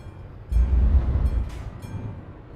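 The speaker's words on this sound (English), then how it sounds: "Railway crossing. Yep, and it's actually got a train coming across." Train rolling across a railway crossing in Euro Truck Simulator 2, a deep rumble that swells suddenly and holds steady with faint clattering over it.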